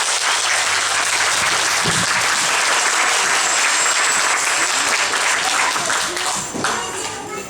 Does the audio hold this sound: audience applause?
yes